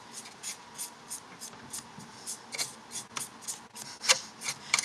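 A Bachmann Spectrum 0-4-0 saddle tank model locomotive is cleaned with short, steady rubbing or brushing strokes, a quiet rhythmic scratching repeated about three times a second, close up with no talk.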